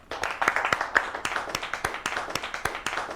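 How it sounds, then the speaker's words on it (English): Short burst of applause, a small group clapping in an office scene, with distinct claps over a dense wash of clapping and faint voices underneath. "Let's give a big round of applause for Chacha."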